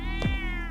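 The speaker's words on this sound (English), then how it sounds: "A cat?" A cat gives a single short, clear meow up close in a quiet indoor space, with a steady low hum underneath.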